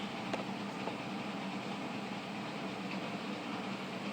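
A HO scale Kato Union Pacific SD38 model locomotive with a Tsunami Blunami sound decoder gives a steady, even diesel rumble with a faint hiss, continuous and unchanging throughout.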